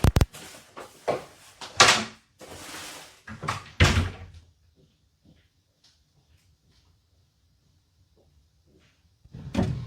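A door being shut with a few knocks and clunks in quick succession, including a louder slam near the start, followed by a long stretch of near silence and a faint thump at the end.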